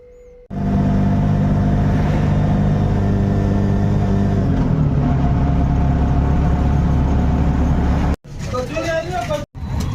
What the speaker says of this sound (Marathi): रिक्शा की सवारी पालघर में ट्रॅफिक लग गई है पूरी